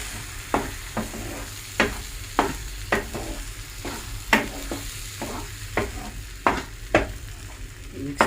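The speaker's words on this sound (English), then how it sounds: "Mix together with the onion ginger paste and fry also." Potato paste and onion ginger paste fry together in a pan for an omelette, a steady sizzle broken by regular spatula strokes that scrape and tap about every half second, close by.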